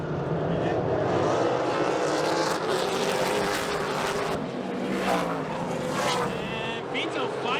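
A pack of race cars accelerates hard on a restart at a local short track, engines roaring loudly and steadily with the field close by, under excited commentary.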